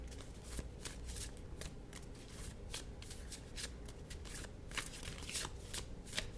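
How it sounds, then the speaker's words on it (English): A deck of tarot cards is shuffled by hand, giving a quiet run of rapid riffling and flicking bursts that repeat steadily with no talking. "I'm going to give the deck a really good shuffle"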